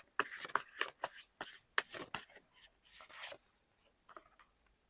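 Tarot cards shuffled and drawn by hand for a reading, a run of quick papery riffles and slaps, close and fairly loud, easing off into near silence at the end.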